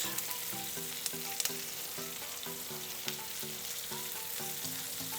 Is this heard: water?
no